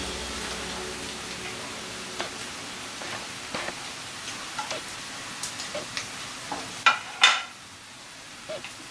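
Chopped leeks are stirred in a pan while frying rice, with a soft, steady sizzle underneath and scattered utensil taps and scrapes, a couple of sharper clacks near the end.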